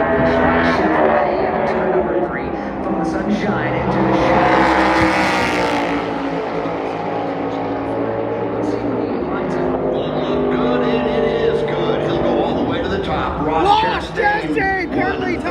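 A NASCAR Cup race car at full throttle during qualifying at Phoenix Raceway, its loud engine roaring steadily down the back straightaway and rising in pitch, with a commentator talking over it the whole time.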